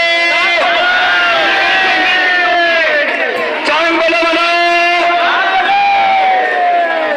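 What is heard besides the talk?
crowd of devotees at Kalbhairavnath temple fair procession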